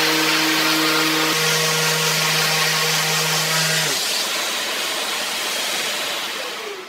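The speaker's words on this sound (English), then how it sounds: "I'm going to sand off the white stuff" A power sander works white material off the surface of a wooden bookend, giving a loud, steady motor whine over gritty abrasion. Near the end the motor shuts off and audibly spins down.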